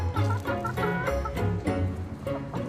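Backyard chickens kept in the city of Montréal cluck and murmur close by, a busy run of short repeated clucks with no talking over them.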